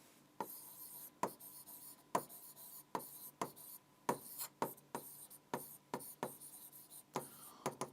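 Chalk taps and scratches on a classroom board as a teacher writes, sharp strokes repeating in an uneven rhythm, close and fairly quiet in a still room.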